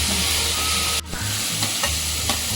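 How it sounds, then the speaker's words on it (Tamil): Tomatoes sautéing in a pan for meal maker fry, a loud, steady close sizzle with a brief break and light stirring scrapes. "தக்காளி தக்காளி ஒரு ரெண்டு நிமிஷம் வதக்கினா போதும்"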